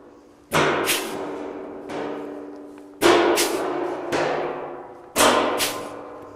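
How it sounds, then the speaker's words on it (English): A pneumatic punch flange tool run on 90 psi air drives 3/16 holes through sheet metal for a door skin lap joint, giving three loud, close sharp clacks each followed by a softer second hit and a decaying metallic ring. "And then it'll also punch a 3/16 hole. Works 90 psi air pressure."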